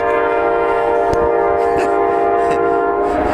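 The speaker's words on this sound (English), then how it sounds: "trying to film this, but the train's going on" A loud train horn blares continuously up close, its sustained chord-like tones dominating, with rumbling rail noise beneath.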